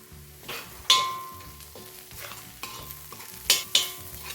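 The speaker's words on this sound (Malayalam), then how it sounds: "3/4 ടീസ്പൂൺ ഗരം മസാല പൊടിയും 1/4 ടീസ്പൂൺ കുരുമുളക് പൊടിയും കൂടി ഇട്ടിട്ട് ഇളക്കി കൊടുക്കാം" Kashmiri red chilli powder, garam masala and black pepper powder stirred in a hot pan for egg masala, with several sharp spoon scrapes against the pan over a soft sizzle, no talking.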